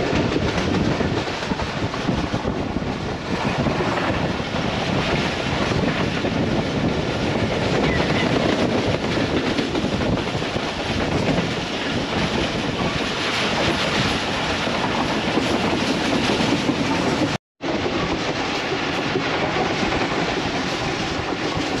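The Pakistan Railways Awam Express passenger train runs at around 100 km/h beside the GT Road, making a loud, continuous rumble with rattling wheel clatter and a brief cutout near the end.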